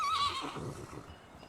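A ridden horse in the medieval game Medieval Dynasty lets out one short, clear whinny that fades quickly, with faint hoof clopping after it and no voices.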